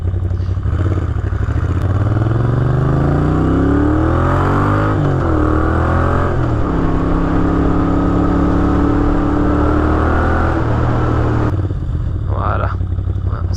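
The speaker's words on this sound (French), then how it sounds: "voilà le bestiau, voilà la ligne, voilà le ralenti. Donc vous voyez French Monkey Exhaust, donc des échappements sur mesure." Moto Guzzi V7 II Racer fitted with custom-made Frenchmonkeys twin silencers, its engine running loud and close at idle with a few rising and falling revs, while a voice talks at times over it.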